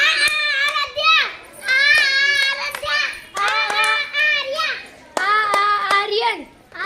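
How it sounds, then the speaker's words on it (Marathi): Sharp hand claps from children in a Marathi-language classroom activity at a Zilla Parishad school, a few crisp individual claps punctuating near, loud chanting of young voices in rhythmic bursts. "आ अक्षराने या टाळी द्या, नाव सांगा।"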